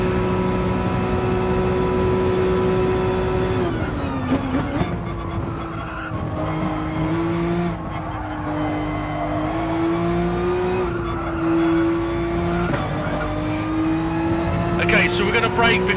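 A race car in Gran Turismo Sport powers through Eau Rouge at Spa, its engine holding a steady high whine that dips and climbs with gear and throttle, with brief tire noise near the middle and someone talking over it.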